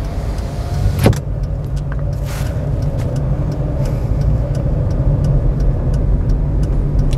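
Car engine under steady drive during a road driving lesson, a continuous low road and engine rumble filling the cabin, with one brief sharp click and faint ticking, no talk.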